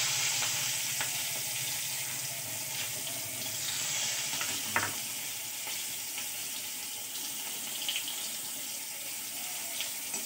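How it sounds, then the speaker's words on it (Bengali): Chopped tomatoes fry in hot oil in a pan for a fish curry, a constant hissing sizzle at low to moderate level. One soft knock cuts in midway, and no one speaks. "ভেজে নেব।"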